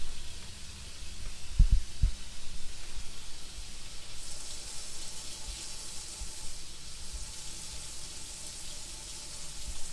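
Water runs from an RV faucet during a fresh water system test, a steady hiss that brightens partway through, with a couple of low thumps near the start.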